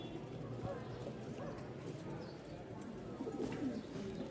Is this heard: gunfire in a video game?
no